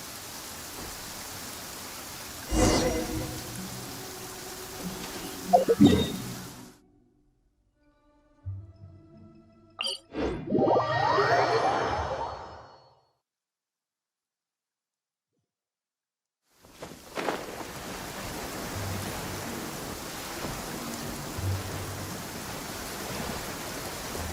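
Steady heavy rain hisses in Genshin Impact, broken by a stretch of silence with a few clicks and a short swell of noise, then the downpour returns.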